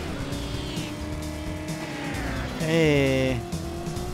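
Car engine revving and tires squealing in the video game Driver, a steady motor drone under a player's talk, rising into a loud skidding screech before settling back.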